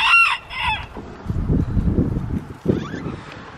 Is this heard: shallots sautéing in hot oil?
no